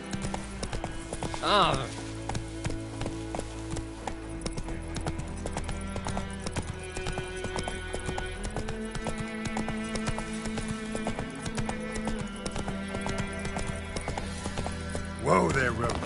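Hooves of Roach, a horse in The Witcher Wild Hunt, clip-clop steadily through a game scene, with a brief whinny near the start and a short voiced exclamation, over continuous background music.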